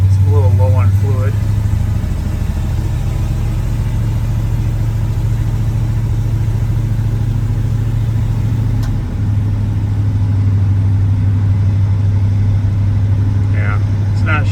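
A car engine with a transmission that will not shift and is low on fluid runs loud and steady at a low, even drone for the whole stretch, with brief voices at the start and end.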